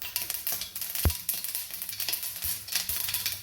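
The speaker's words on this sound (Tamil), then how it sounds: "எண்ணெய் நல்லா சூடானதும் எடுத்து வச்சு இந்த கடுகை போடுங்க." Mustard seeds crackle and sizzle in hot oil in a pan for tomato chutney, a steady close-up frying hiss with scattered pops and one sharper knock near the middle, and no talking.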